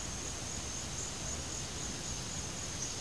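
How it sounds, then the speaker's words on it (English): Cicadas sing outdoors in a steady, unbroken high-pitched drone that holds at the same faint level for the whole stretch, with no other sound on top. "I didn't notice the cicadas were singing until I got out here"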